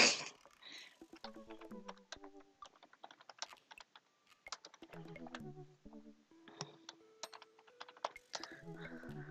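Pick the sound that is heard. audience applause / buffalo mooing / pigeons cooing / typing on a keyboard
typing on a keyboard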